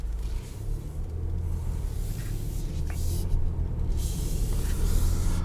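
A 2022 Infiniti QX60 on the road, heard from inside the cabin as a steady low rumble of engine and tire noise with a soft hiss of passing air, continuous and fairly loud.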